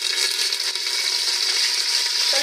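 Curry leaves sizzling in hot ghee and coconut oil, a steady close crackling fry that holds continuously without any voices.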